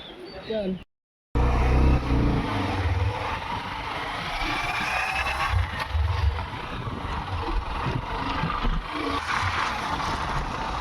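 Motorcycle riding on a rough road on the way from Nandgaon to Raigad fort, a steady engine and wind rumble after a brief dropout, with voices speaking over the ride.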